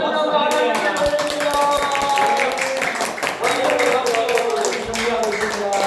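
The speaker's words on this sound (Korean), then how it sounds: "와, 박수 박수 박수" A church congregation clapping together in a steady, brisk patter of many hands, with voices talking and calling out over the applause throughout.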